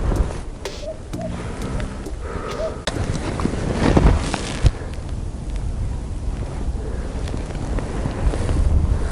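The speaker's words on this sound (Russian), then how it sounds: "Скорее всего, ветер." Wind blows across a frozen lake in a March snowstorm, a steady, loud rush of gusts against the microphone with a few clicks and knocks mixed in.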